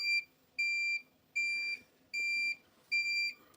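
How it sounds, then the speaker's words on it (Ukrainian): A power supply system raises an error alarm after the grid drops following shelling, giving five evenly spaced, sharp electronic beeps, each lasting about half a second, clear and alone against a faint background. "вона пищить ще раз"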